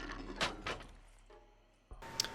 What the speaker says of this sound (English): the first time you load it, you'll hear a clunk that sounds like this